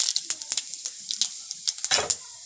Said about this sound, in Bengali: এখন দিয়ে দেবো দুটো তেজপাতা আর দিয়ে দেবো একটুখানি গোটা জিরে ফোড়ন।